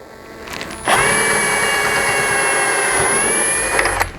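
A handheld power drill drives a screw to fix a vehicle tail light, a single continuous whirring whine of about three seconds, close and loud, starting and stopping sharply with faint handling noises around it.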